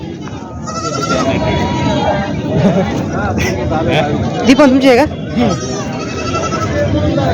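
A goat bleats a few times amid lively chatter and laughter from several people nearby at a goat market in Purna.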